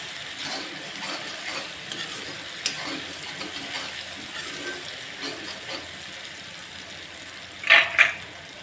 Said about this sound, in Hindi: तो ये मैं थोड़े से और तेज़ आंच पर फ्राई करूँगी।